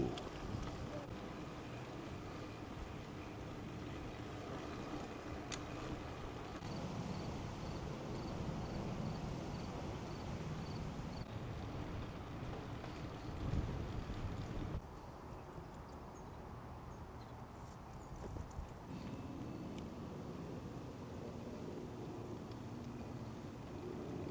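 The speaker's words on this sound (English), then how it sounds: "Woo, what a windy day, man. It's terribly windy." Steady wind buffeting the microphone with a low, continuous roar, shifting slightly in strength, and no voices.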